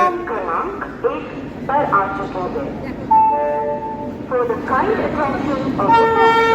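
A train pulls into a station platform in Sealdah, with horn toots and rumbling carriages amid a busy crowd, people talking loudly nearby throughout.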